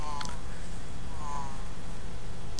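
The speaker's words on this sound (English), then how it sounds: "a bunch of bees will chase me right when I pick it up" Swarm of bees buzzing in the video game Conker's Bad Fur Day, a continuous close insect drone with a few brief higher whines passing over it.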